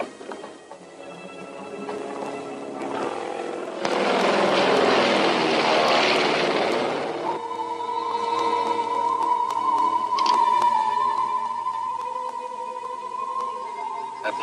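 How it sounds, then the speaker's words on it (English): A propeller plane drones overhead, its engine swelling louder for several seconds as it passes close, then easing into a steadier hum alongside a sustained tone, with no talk. "That plane's headed this way."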